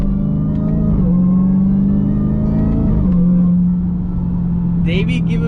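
A 2020 car with a Legmaker aftermarket intake revs up loudly and close by, its supercharger whining in a rising then falling tone as the engine rumbles beneath, with a short clatter near the end.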